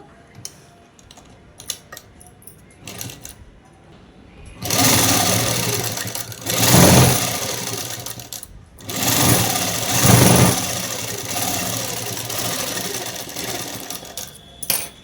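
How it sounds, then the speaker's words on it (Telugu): A sewing machine stitches folded cloth for a man's shirt, running in loud bursts of rapid mechanical whirring separated by pauses with small clicks and handling noises between runs. "ఇలా పెట్టేసి క్లాత్ మడిచి కుడుతున్నాను"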